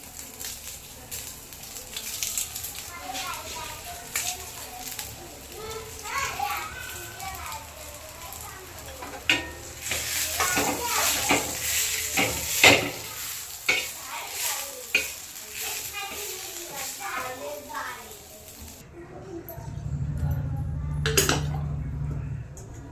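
Garlic and onion frying in a pan for dal karela, a steady sizzle with repeated stirring clinks and scrapes of a utensil, while voices and background chatter sound throughout.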